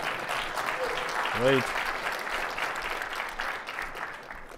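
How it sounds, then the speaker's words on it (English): Audience at a software conference talk on JUnit 5 testing breaks into steady applause that fills the whole stretch, with a brief spoken word and a short vocal sound near the start. "This is where I get the biggest applause."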